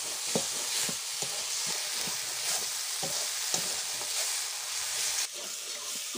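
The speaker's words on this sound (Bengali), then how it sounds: "বন্ধুরা মশলা পুরো কষে গেছে" Spice paste with green chillies for rui fish kalia sizzles steadily in a pan, with regular soft stirring knocks and scrapes close by throughout and no voices.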